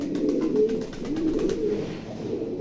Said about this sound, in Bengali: মাশাল্লাহ কবুতরের অ্যাক্টিভিটিস দেখেন, কবুতরটা বর্তমানে মিটিং মুডি রয়েছে।